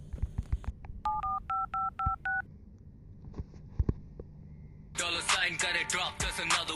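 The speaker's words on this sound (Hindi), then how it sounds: "कृष्णा को फोन करते हैं।" A phone number being dialed on a telephone keypad: a quick run of six paired-tone DTMF beeps at a steady rhythm, a few fainter scattered tones, then a brighter ringing burst near the end, all clear with no talk.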